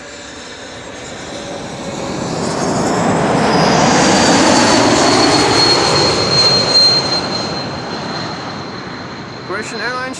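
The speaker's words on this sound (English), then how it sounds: "Croatian Airlines flight 450 arriving from Zagreb. 8-2300, aka Bombardier C-Series 300." A Croatia Airlines Bombardier C-Series 300 jet arriving at Amsterdam Schiphol swells into a loud, broad engine roar that peaks midway and holds, with a thin whine, then slowly eases off near the end.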